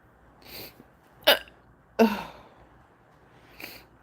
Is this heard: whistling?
no